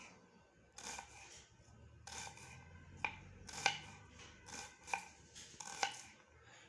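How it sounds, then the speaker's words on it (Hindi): Onion being chopped into thin slices with a knife on a board in a home kitchen, several sharp, separate knife taps spaced irregularly and heard close but fairly quiet. "अब जो है हम प्याज की कटिंग करेंगे।"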